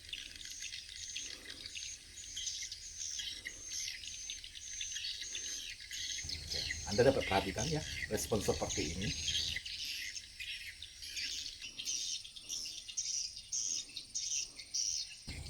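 Recorded swiftlet call played back as a steady high-pitched chirping loop, faint and continuous, with a brief burst of nearby speech in the middle.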